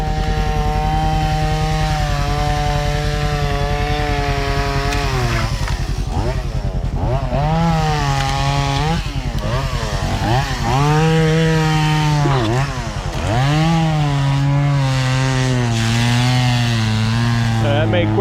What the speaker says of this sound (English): He comes prepared, popped right out, grabbed a chainsaw, started cutting.